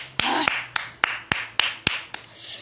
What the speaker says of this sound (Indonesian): Coba mana tepuk tangannya dulu ya.